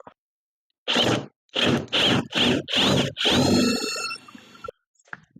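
A 3/4 inch wooden dowel being sawn or drilled at a workbench: five loud, close, rhythmic bursts of rasping cutting, then a longer stroke that fades, with brief quiet at each end.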